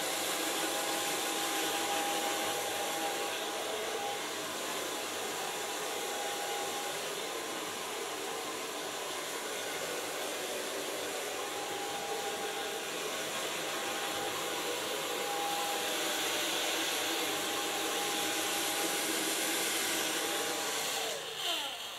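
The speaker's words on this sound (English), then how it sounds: "So far blow drying." A hair dryer blow-drying short, freshly colored hair runs in a steady, close whoosh with a faint whine throughout, with no talk.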